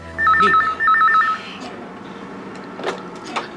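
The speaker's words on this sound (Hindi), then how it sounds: "बॉबी से फोन कराते हैं।" A telephone rings with two electronic trilling bursts, followed by quieter background rustling and faint sounds.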